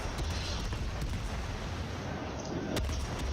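Naval gunfire from a Minotaur cruiser in World of Warships, a steady low rumbling roar of repeated cannon shots rolling continuously with a few sharper reports, fairly loud and with no talk.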